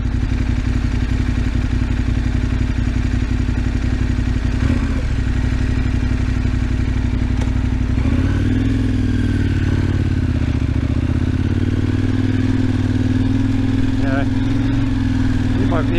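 A motorcycle rides a remote outback road between Wave Rock and Esperance, its engine a constant loud drone with wind rush and occasional clattering thumps from the rough surface, a rider talking over it.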